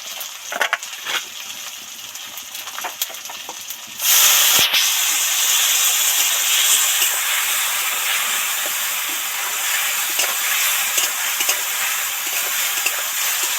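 Spices sizzle in a hot pan for a small prawn curry, a quiet stirring patter suddenly giving way to a loud steady hiss that continues to the end.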